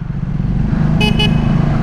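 A short double beep of a Triumph Speed 400 motorcycle horn sounds twice over a steady idling engine rumble, close and loud.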